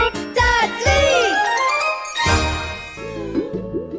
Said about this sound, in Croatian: čuje se zvono